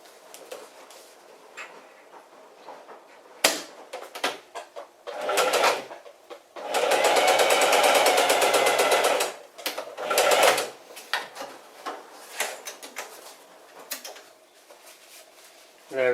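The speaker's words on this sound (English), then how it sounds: "I'm just going to sew these two other bits of scrap together quickly" A Singer Heavy Duty 4411 sewing machine stitching two fabric scraps together, running in a few short bursts and one longer steady whir, close up, with a person talking in between.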